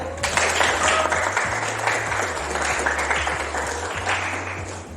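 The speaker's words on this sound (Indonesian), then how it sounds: "Kasih tepuk tangan untuk Zia" Classroom audience claps for a student presenter, a lively burst of many hands clapping for a few seconds, close and fairly loud, with no talk over it.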